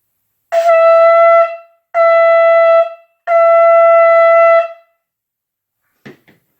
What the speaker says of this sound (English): the second call that comes from the shofar is